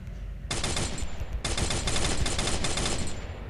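Rapid automatic gunfire in a shooting video game, a dense burst that starts abruptly, pauses briefly, then resumes as a sustained rattling stream of shots, loud and close with no talk over it.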